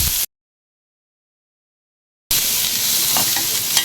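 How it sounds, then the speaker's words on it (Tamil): Onion and green chili sauteing in a pan for soup, a bright close sizzle with soft stirring scrapes after a brief cut to silence. "இப்போ வந்து நம்ம ஆனியனும் பச்சை மிளகாவும் கொட்டிட்டேன்."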